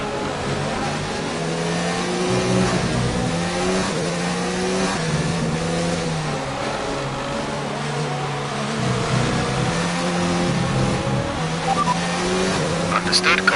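An F1 2019 race car with engine trouble accelerates back to racing speed, the engine rising through successive upshifts with a rhythmic climbing whine and some tire noise, loud and continuous. A voice talks over it.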